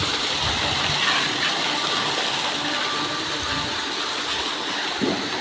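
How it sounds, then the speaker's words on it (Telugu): A waterfall gushing with strong pressure in a sunny outdoor spot, a loud, steady broadband roar of falling water that holds evenly throughout, with no talk. "గైస్ ఇది ఇంకా వాటర్ ఫాల్స్ ఉన్నది చూడండి"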